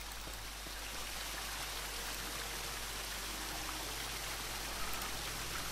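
Steady rushing water pours into a container in the point-and-click adventure game Jack Keane, a continuous even hiss like a running stream with no pauses or talking.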